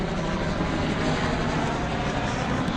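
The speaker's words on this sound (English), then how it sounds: "Come on, helicopter, I'm trying to film here." A helicopter passes overhead, its loud, steady rotor and engine drone filling the whole stretch without letting up.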